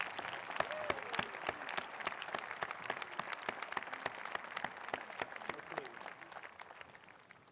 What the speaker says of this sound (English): Big round of applause for our International Baccalaureate candidates